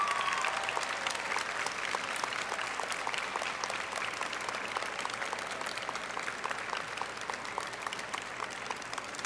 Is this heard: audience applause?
yes